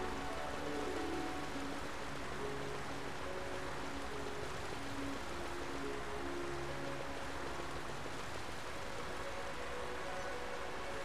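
Rain falls steadily as a dense, continuous hiss, with faint tonal sounds layered beneath the downpour.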